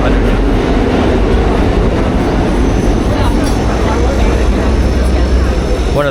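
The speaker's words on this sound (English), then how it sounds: "You can hear the subway underneath." A New York subway train rumbles beneath the street near Union Square, a steady low-frequency roar that fills the whole stretch and stays under a busy outdoor city wash with voices in the background.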